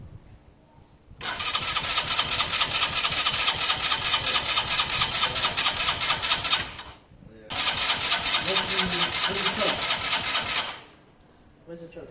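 A Keeway motorcycle's engine cranks and catches in two long loud bursts, running rough and steady for several seconds each with a brief gap between, while people talk nearby.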